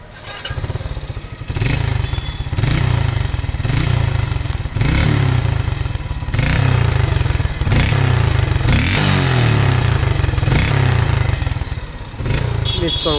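A Mahindra Centuro 110 motorcycle engine idles and revs repeatedly, loud and close, with a steady low rumble that swells and drops in several bursts across the whole span.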